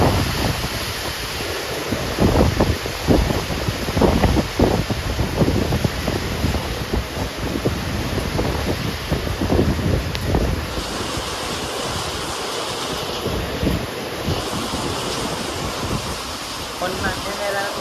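Heavy rain falls outdoors in a steady, loud hiss, with wind buffeting the microphone and voices speaking at times.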